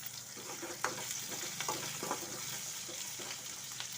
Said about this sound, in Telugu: ఉల్లిపాయ, పచ్చిమిర్చి, ఎల్లిపాయ, జీలకర్ర అన్నీ వేసి కొంచెం కరివేపాకు వేసి వేగనివ్వాలి.